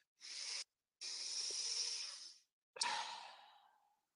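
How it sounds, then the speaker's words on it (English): Slow, deep breaths during a high-altitude breathwork exercise, heard up close: three long, airy breaths in a row, with a brief pause between the first two. The last is a strong exhale that fades out gradually. No one talks. "3 more breaths."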